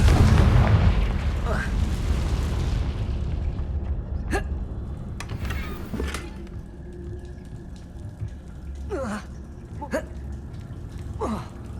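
A Confringo fire spell blasting in the game Hogwarts Legacy, a deep booming burst at the start that rumbles and fades, followed by a few sharp magical zaps and pops.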